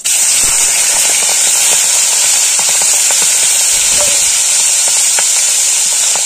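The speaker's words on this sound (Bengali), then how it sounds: "তো আমি আজকের মাছের মাথাগুলো ভেজে নেব নুন হলুদ মাখে" Hilsa fish heads coated in salt and turmeric fry in hot oil with a loud, steady sizzle and hiss throughout, with occasional spitting pops and faint stirring clinks.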